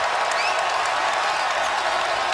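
Basketball arena crowd at a Syracuse vs North Carolina game cheering and applauding, a dense, steady roar of clapping and voices filling the whole clip without a break.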